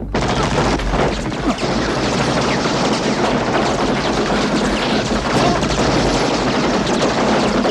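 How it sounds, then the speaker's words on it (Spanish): Dense, loud gunfire, rapid overlapping shots forming a continuous barrage throughout. "Y ahí nomás empiezan los tiros."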